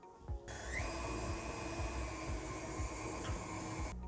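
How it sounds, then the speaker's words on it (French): Stand mixer steadily kneading brioche dough for Alsatian mannele, a continuous motor whir with rhythmic low thumps as the dough slaps the bowl, starting and stopping abruptly, nearby and fairly quiet. "On va pouvoir pétrir la pâte durant environ 10 minutes."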